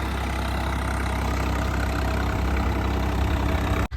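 Swaraj 855 tractor engine running steadily during potato planting, a loud close diesel drone with constant low rumble and slight knocking that cuts off abruptly at the end; no talking.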